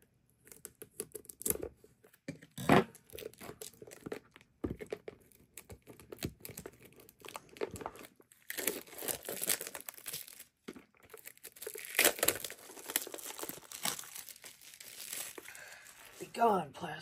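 Plastic wrapping being torn and crumpled off a trading card game starter deck, with crinkling bursts and rustles scattered over the span, close and fairly loud, a voice talking intermittently.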